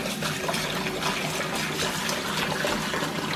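Kibbe wheat is washed in cold water, giving a continuous splashing and sloshing of liquid that stays close and fairly loud throughout, with no speech over it.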